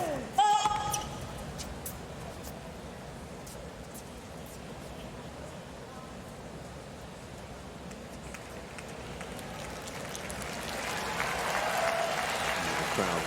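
Tennis crowd at a US Open match clapping, a steady wash of applause that swells louder toward the end, with a commentator's voice over it.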